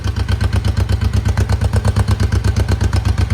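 A Honda CB350 twin motorcycle engine idles steadily at about 1100 rpm, a close, even, loud low-pitched pulsing with slight mechanical clatter running throughout, with no talking.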